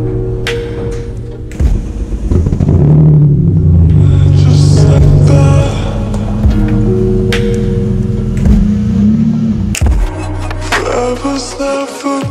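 A Ford XF ute with a barra engine swap rumbles steadily at low speed as it is driven into a garage, a loud continuous engine drone with slight revving, no talking.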